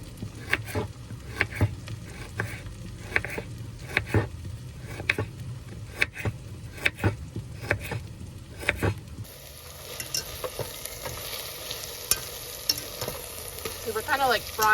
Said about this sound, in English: So we're kind of like frying the tomato paste and the spices.